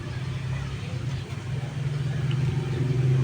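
Steady low car engine rumble from passing road traffic, swelling slightly louder toward the end with no voices over it.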